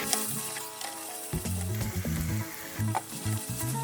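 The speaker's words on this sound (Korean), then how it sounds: "간장과 설탕을 넣어 살짝 끓이다가 재료와 섞으며 볶아주세요." Ramen noodles being stir-fried in a pan with soup seasoning, soy sauce and sugar, a steady close sizzle broken by repeated scraping and stirring strokes, with no talking.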